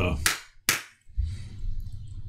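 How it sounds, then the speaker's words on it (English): Two sharp hand claps land in quick succession, loud and close, followed by a low rumble of a voice speaking. "clapping your hands, a loud sound, something sharp and definite"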